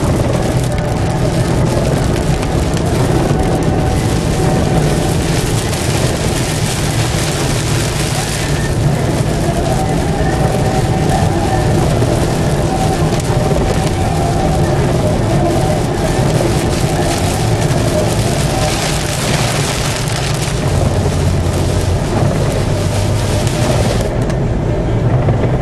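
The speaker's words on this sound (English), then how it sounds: "And this would be the rain close up." Heavy rain in a thunderstorm pours steadily in a dense, constant hiss, with a low rumble underneath.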